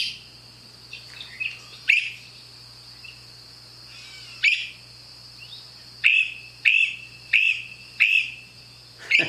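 Short, sharp bird calls repeat several times, each a bright rising 'freep', clear against a steady low hum and faint background chirring.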